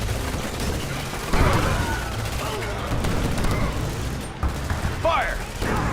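Battle gunfire in the video game Command & Conquer 3, with a steady rumble of sustained fire and distant booms under game voices and unit chatter, fairly loud and continuous throughout.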